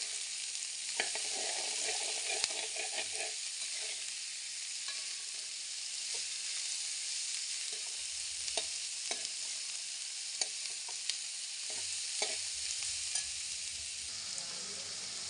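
Onions sizzle steadily in a pan as they fry for a Punjabi bhindi dish, with a constant close hiss and occasional scraping stirs, and no voices.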